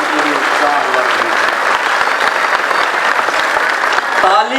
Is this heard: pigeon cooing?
no